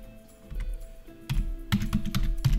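Rapid keystrokes on a computer keyboard while entering a search for Cognizant open source on GitHub during a software installation, starting as sparse taps and building into a dense, close run of clicks.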